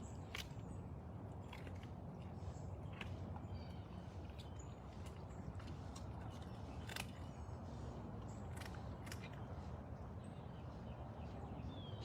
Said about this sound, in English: That crunching never gets old.